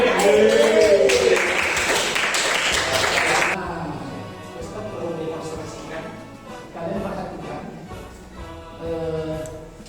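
Students in a classroom give a quick burst of clapping for about three seconds, then it stops and a teacher talks over the quiet room.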